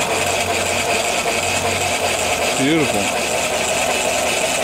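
A homemade antique-style mill steam engine with a flyball governor, run on steam from a 20-inch boiler, gives a steady mechanical hum and hiss. Someone speaks briefly over it.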